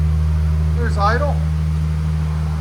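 Jaguar F-Pace 3.0L supercharged V6 idling through a quiet aftermarket exhaust, a steady, deep, loud low rumble throughout, with a voice speaking briefly over it.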